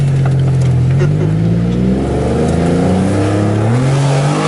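A car engine revs hard as it accelerates through the gears, loud and close, its pitch climbing and dropping with each shift, with brief voices faintly underneath.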